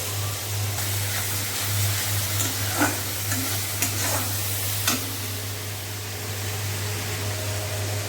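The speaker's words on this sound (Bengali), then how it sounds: "এখনো খুন্তি নাড়িয়েই যাচ্ছি" A spatula scrapes and stirs food in a sizzling pan in a home kitchen, with a steady frying hiss, a low hum beneath it and a few sharper scrapes of the spatula against the pan.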